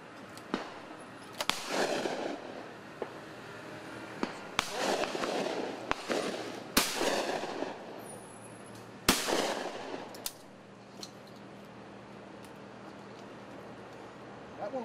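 Shotguns fire at a clay shoot, a series of sharp, echoing blasts spaced irregularly across the outdoor range, with quieter background sound between shots.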